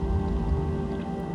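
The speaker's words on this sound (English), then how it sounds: "That has to be like rain." Soft rain-like patter and dripping texture within a song, a faint continuous wash over low sustained drones.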